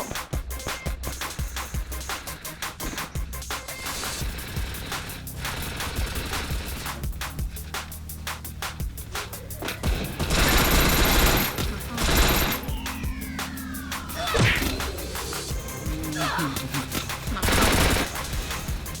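Rapid bursts of automatic gunfire from dual Vector submachine guns in a ranked 4v4 Free Fire match, dense rattling volleys throughout with louder clusters near the end, mixed with in-game effects.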